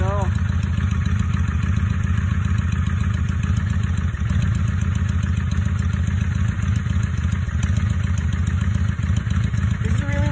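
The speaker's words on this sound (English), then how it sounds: "This is a really low idle" Carbureted motorcycle engine at a very low idle, a steady low rumbling chug running loud and close throughout with a faint clatter and no break in sound.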